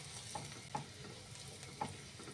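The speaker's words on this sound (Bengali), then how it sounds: "এবার এতে কিছু রসুনের কুচি দিয়ে দিচ্ছি, সামান্য ভেজে নেব" Chopped garlic, four cloves' worth, frying in a pan, a soft steady sizzle with a few light stirring scrapes, close and fairly quiet, no voices.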